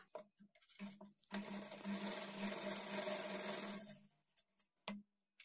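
A sewing machine stitches blouse lining to the main fabric in one steady, faint whirring run of about three seconds, with soft handling clicks and knocks before and after.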